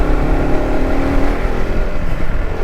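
A motorcycle engine labours up a steep hill road near Landour in Mussoorie, a steady, close, loud drone strained by the climb, with wind noise and no voices.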